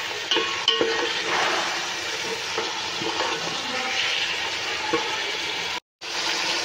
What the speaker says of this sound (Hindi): इसको हमने अच्छे से मिक्स कर लिया है, तेज आंच पे आपने मिक्स करना है।